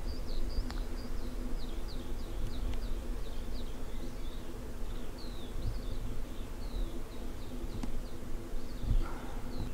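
Faint, steady buzzing of bees around an apiary hive, low and continuous, with small birds chirping repeatedly nearby and no talking.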